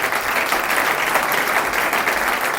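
A festival crowd at the 2017 Digital Festival applauds in a thick, continuous wash of clapping that stays loud and even from start to finish.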